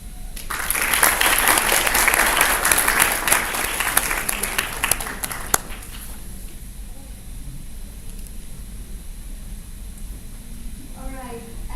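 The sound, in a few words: audience applause at alumni meeting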